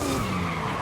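A car's tires skid and squeal under hard braking with the normal brake and e-brake in Forza Horizon 5, a steady loud screech lasting under a second over engine noise.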